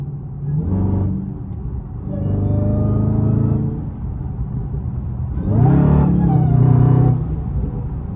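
A Dodge Challenger SRT Hellcat engine revs up in several surges in manual mode at night, roaring and dropping between pulls, loud and close.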